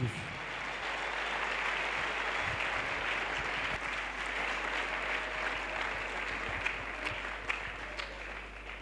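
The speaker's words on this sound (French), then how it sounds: "Let's clap to the Lord" Congregation at an evangelistic crusade clapping for the Lord, a dense, sustained wash of many hands applauding together from a large crowd, steady throughout with no talk.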